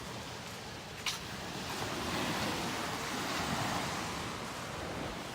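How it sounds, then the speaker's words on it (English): Caribbean ocean waves crash and wash steadily onto a Turks and Caicos beach, a continuous broad roar of surf with wind buffeting, and no voices heard. "Just hear the waves crashing in the background."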